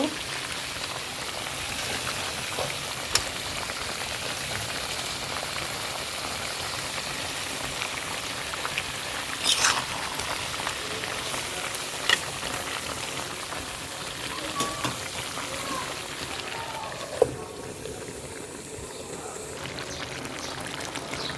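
Tomato frying in a pan during home cooking: a steady, even sizzle and crackle runs throughout at moderate volume, with a few small pops and clinks.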